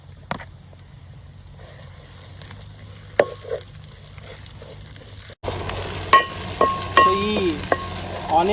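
Onion, ginger and garlic paste with green chillies is stirred into a pan for fish curry, quiet at first with a few spoon clinks, then breaking into a louder, steady sizzle and frying crackle.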